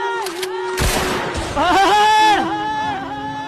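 A sharp gunshot bang cracks out near the start, followed by a short burst of further shots, while an excited voice and crowd noise carry on around them.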